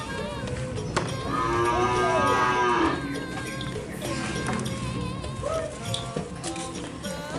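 A Madura bull moos once, a long loud low call, amid busy farmyard noise and clatter, with other faint calls following.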